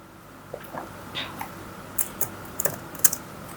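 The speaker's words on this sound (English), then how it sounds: "okay, I think I have to type it." Keys on a computer keyboard tapped in short irregular bursts of quiet clicks, with sparse keystrokes building toward a quicker cluster of presses near the end.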